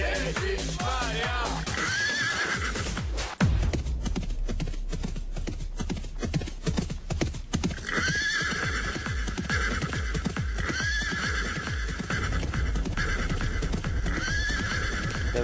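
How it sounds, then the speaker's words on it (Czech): A mounted horse in WoW Classic clip-clops at a steady gait, with repeated whinnies and neighs over the hoofbeats and a brief shift in the middle, clear and close throughout. "Jedu na koni, jedu na koni, jedu na koni, Ježišmarja."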